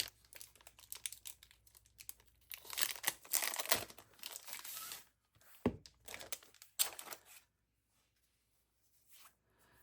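Paper and plastic packaging from a Hobonichi Weeks Mega planter being handled and opened close up, with bursts of crinkling and rustling, a few sharp tearing snaps, then near silence toward the end.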